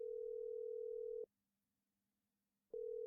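A telephone tone in a horror video game, placed while trying to call the police: a steady, close ringback tone sounds, falls silent for about a second and a half, then resumes.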